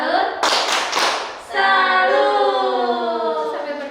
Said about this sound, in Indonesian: Kita tepuk salut dulu ya Pak.